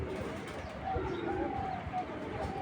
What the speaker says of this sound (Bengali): খুব সুন্দর কবুতরটা